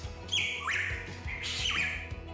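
A Hooded Pitohui, the toxic songbird, gives two loud harsh squawking calls, each a rising then falling nasal note, against a low rumbling background.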